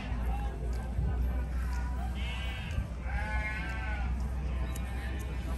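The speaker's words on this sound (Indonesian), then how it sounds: "Tumben di pasar ada domba sebesar ini." Large male sheep bleating at the Ngadirejo livestock market, several wavering bleats rising over a constant crowd murmur and people talking nearby.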